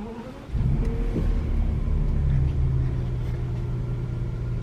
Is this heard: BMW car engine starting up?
yes